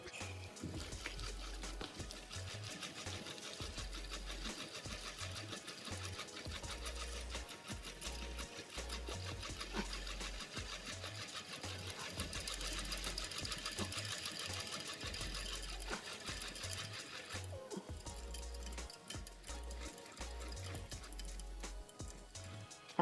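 Baitcaster reel being spooled quickly with fishing line, a faint continuous rapid whirring and ticking with rhythmic low thumps, steady throughout.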